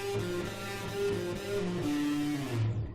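Bent guitar notes on G slide up and settle as a short riff rings out alone, sustained and fairly even in volume.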